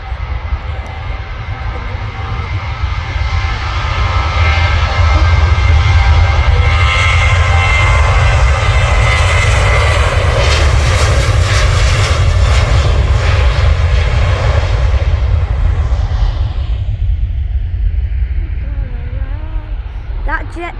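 A Ryanair Boeing 737-800 jet passes overhead at Manchester Airport, its engine roar swelling loud and steady for most of the stretch before fading, with people talking nearby.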